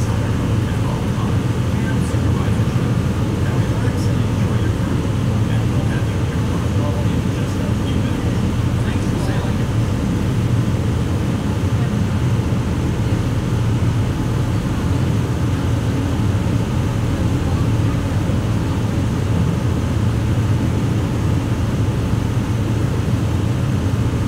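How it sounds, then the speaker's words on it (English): The engine of a boat carrying passengers to Disney's Magic Kingdom drones steadily. The low, heavy rumble sounds close and loud, with no break for the whole ride. "I feel like we're literally sitting on the engine."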